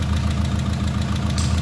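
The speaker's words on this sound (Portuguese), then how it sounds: "olha pra vocês o barulho que esse motor tá fazendo" A car engine idles with a steady low rumble and a rhythmic knocking or ticking fault noise, close and continuous with no talking; the engine was recently rebuilt and has triggered an oil pressure warning.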